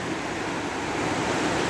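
Greenville Falls, running low after little rain, pours with a steady, even rush of falling water at moderate level and no talking.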